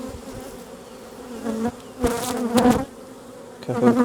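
Honeybees buzz loudly and close as they are shaken from frames into a new box during a hive split, a dense droning hum with sudden louder surges as the bees tumble in; no voices.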